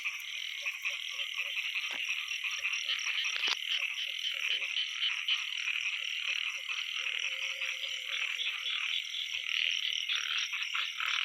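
Small frogs croak in rice fields in rural Laos, a dense, steady chorus of rapid high-pitched calls from many animals at a distance, faint overall, with occasional soft rustling nearby.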